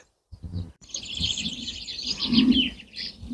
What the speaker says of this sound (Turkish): Kuş sesleri cıvıl cıvıl.